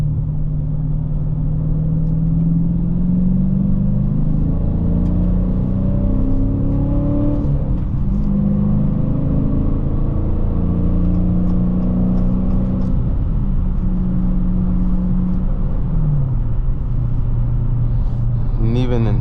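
A 2023 Dodge Challenger Scat Pack Widebody engine drones low and loud from inside the cabin while driving, its pitch rising and falling through gear changes, with steady road rumble underneath.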